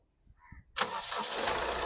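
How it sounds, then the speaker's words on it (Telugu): A few faint clicks, then the diesel engine of a 2016 Honda City cranks and catches at once, settling into a steady, close idle. "సింగిల్ సెల్ఫ్లో బండి స్టార్ట్ అవుతుంది"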